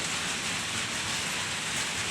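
Steady rain pours down on a rooftop with an even, dense hiss that doesn't let up. It is moderately loud and close, with no voices.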